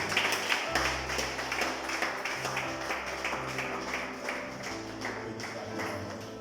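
A church congregation claps and cheers to acclaim Jesus, with steady rhythmic clapping and a low musical drone continuing underneath.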